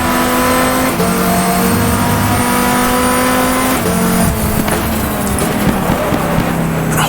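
Race car engines during a night race in GTR2, loud continuous revving with rising and falling pitch as gears shift, several cars close together, with occasional tire noise.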